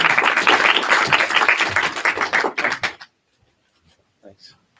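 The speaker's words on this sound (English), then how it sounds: "Big round of applause." An audience at a tech demo night claps in a dense burst for about three seconds, then it cuts off into near silence with a few faint thumps and small sounds.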